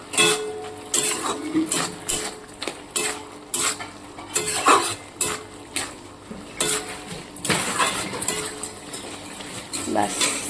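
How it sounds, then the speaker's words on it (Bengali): A spoon scrapes and knocks rhythmically against a pan while vegetable chorchori with coriander leaves is stirred over a soft sizzle, the clatter repeating in quick bursts for around ten seconds, with a voice talking underneath. "এবার ধনে পাতাটা আমি সবজিতে মিশিয়ে দেবো"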